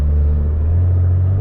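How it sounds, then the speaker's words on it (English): BMW F10 535i turbocharged engine fitted with a Turbosmart blow-off valve, a loud steady low rumble from close by, with no talking. "you can hear the turbo spooling, you can hear the intake sucking in the air, you can hear the exhaust, the burbles, the blow valve"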